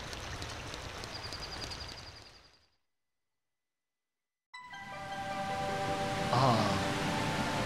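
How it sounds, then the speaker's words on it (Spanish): A waterfall in the video game The Legend of Zelda: Ocarina of Time (Master Quest) gives off a steady rushing wash. It cuts to total silence for about two seconds, then returns alongside ringing musical tones. "Parece que la cascada ya tiene menos fuerza"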